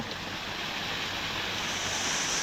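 Water flowing near a temple in a forest, a dense and steady rushing wash with no clear breaks, close and fairly loud.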